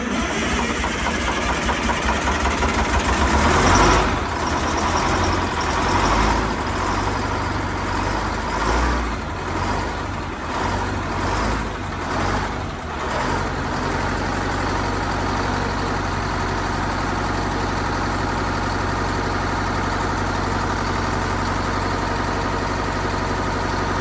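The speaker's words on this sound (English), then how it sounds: "So it was idling pretty good right there on its own?" A heavy Detroit Diesel engine idles with a steady low rumble, briefly rising and wavering before settling back into a constant, even drone.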